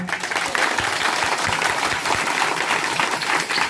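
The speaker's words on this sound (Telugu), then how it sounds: "నాకు చప్పట్లు కొట్టరా" An audience at a temple religious discourse breaks into steady applause, a dense rapid patter of many hands clapping throughout, with a voice briefly audible under it.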